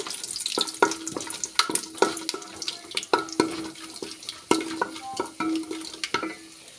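Whole spices (cardamom, black pepper, nutmeg) and cashews fry in a pot for beef trotter biryani, with a soft sizzle under repeated sharp clinks of a spoon stirring against the metal.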